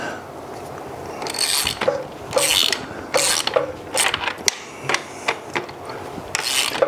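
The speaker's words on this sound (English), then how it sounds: "we're gonna use this socket and my open end" A socket wrench ratchets a bolt on a Chinese dirt bike, with repeated bursts of quick clicking strokes separated by short pauses, close up and without talk.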